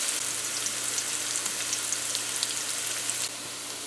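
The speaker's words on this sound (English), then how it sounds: "so our onions fried enough" Onions frying in a pan for a breadfruit and fish curry dish give off a steady close sizzle with scattered crackles, unaccompanied by any voice.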